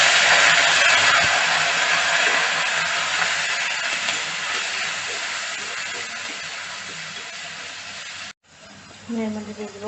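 Onions frying in a pan for a fish roe curry give a loud, dense, continuous hissing sizzle close by, which cuts off abruptly near the end and is followed briefly by quieter sounds.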